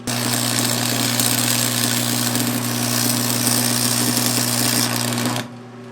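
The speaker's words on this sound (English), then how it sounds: "She's making some vibrating sound just because she's on this metal plate here." An old, cheap welder resting on a metal plate runs with a loud, steady buzzing hum and vibration that holds for about five seconds, then cuts off abruptly.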